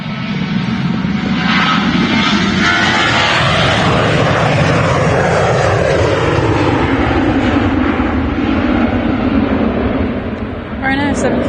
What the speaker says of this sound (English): Ryanair 737 on the way to Alicante.